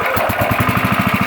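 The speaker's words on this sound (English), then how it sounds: "back to the log splitter. She starts right up" A log splitter's small engine, jump-started with jumper cables on a weak battery, runs in a fast, steady pulsing chug up close, the firing beats evenly spaced and loud throughout.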